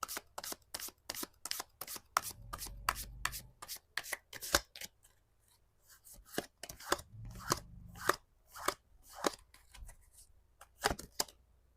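Tarot cards are shuffled and laid out by hand, crisp rapid card-on-card riffles and slaps in bursts with short pauses, close and fairly quiet with no talking.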